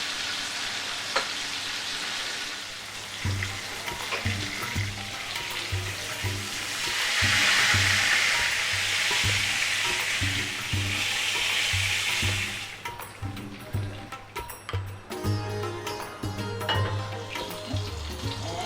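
Steady sizzling of sliced onions sautéing in oil until light brown, for fish biryani, with clattering stirring and scraping over it and a louder hissing surge partway through, close and continuous.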